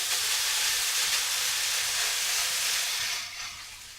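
Rice sizzles loudly in a hot frying pan, a dense crackling hiss that eases and softens over the last second.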